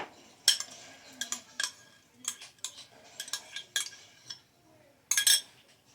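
A utensil scrapes and clinks against a pot as bacon is stirred into potato soup, with irregular metallic knocks and scrapes in uneven bursts, close and clear, with no talking.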